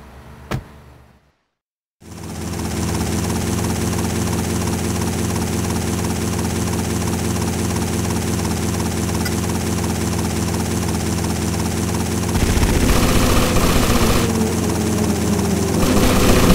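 A helicopter in GTA Vice City Stories starts up after a short click and a moment of silence, then settles into a loud, steady rotor and engine drone that swells louder near the end.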